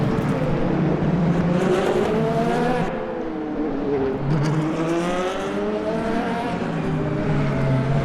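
Onboard the number 8 race car at night in Le Mans Ultimate, the engine loud and close, revving up and down through gear changes with brief dips while braking, rising again through each acceleration.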